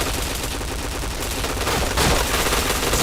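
Rapid gunfire in a shooter video game, dense continuous bursts that stay loud and close throughout, with a heavier volley near the end.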